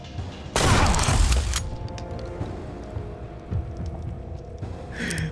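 A loud gunshot in Mutant Year Zero: Road to Eden, a heavy blast that rings out for about a second and then gives way to quieter game sounds with scattered faint clicks and thuds.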